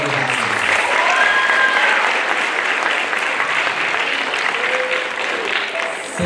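An audience at a junior high school play in Nairobi claps steadily and densely for several seconds, a continuous wash of applause at even loudness.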